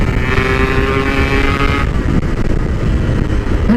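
A motorcycle fitted with its original exhaust revs hard and steadily as the clutch slips, a loud, close, continuous engine drone whose pitch holds high, then drops into rougher, lower roar partway through.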